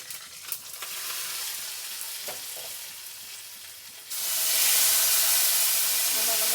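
Spices are tempered in oil for sambar: a quiet crackle and stirring at first, then a sudden loud, hissing sizzle bursts up as the tempering hits and keeps spitting steadily, close by.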